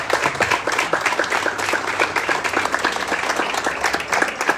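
A Mass congregation claps loudly and steadily, with the individual hand claps distinct and close. The applause continues throughout with no speech on top.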